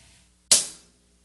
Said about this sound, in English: The next thing over is the hi-hat,